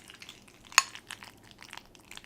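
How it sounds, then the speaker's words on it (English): Hot, cheesy mac and cheese being stirred in a pot, giving soft wet squelches and faint sizzling with one sharp utensil click partway through, close and fairly quiet. "When your mac and cheese sounds like this,"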